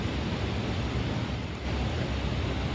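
The Grand River flowing through downtown Grand Rapids, a steady broadband rush of moving water with wind, continuous and fairly loud with no talk.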